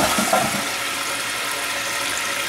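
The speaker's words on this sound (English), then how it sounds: "Now we want to check that it indeed flushes when we hit the level." A TOTO toilet flushing after its fill valve and flapper were replaced, a loud, close, continuous rush of water that holds steady from start to finish, with no voices.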